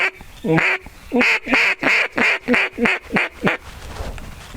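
A duck call is blown in a string of about ten evenly spaced, loud, nasal quacks close up, imitating a duck, trailing off at the end.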